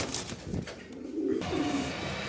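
A male pigeon coos close by, a low soft rolling call lasting about a second, with faint background noise and no talking.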